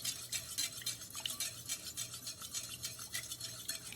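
Protein cake batter being whisked in a bowl, fast rhythmic metal strokes scraping and tapping the bowl, close and fairly quiet, continuous with no talking.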